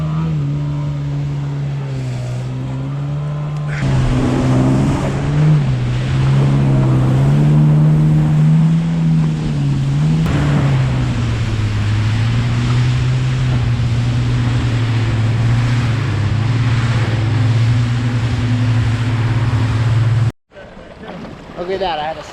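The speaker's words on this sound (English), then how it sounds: "Look at that, I had a stay dry superjet ride." A Superjet stand-up jet ski runs across open water, its engine droning steadily and loudly close by, the pitch rising and falling as it rides, with water rushing around it before cutting off abruptly near the end.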